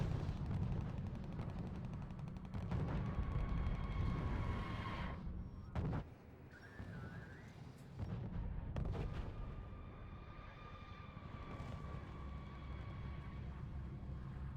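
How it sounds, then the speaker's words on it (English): Artillery and gunfire from R.U.S.E. in an Operation Market Garden battle: a steady, low rumble of distant barrages and shots rolls on beneath a faint, continuous battle din, with brief dips and quieter gaps. "Reporting, unit under sustained fire."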